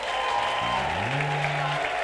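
A church congregation at a worship service applauds and cheers God, with sustained, dense clapping and crowd voices over a faint tonal backdrop.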